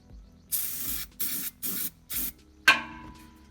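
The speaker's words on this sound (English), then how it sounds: "spray some fluid film around the hole I enlarged" Four short hissing bursts of Fluid Film rust protection spray onto bare car body metal around an enlarged hitch mounting hole on a 2018+ Chevy Equinox, close and distinct, followed by a sharp metallic clank with a ringing tail.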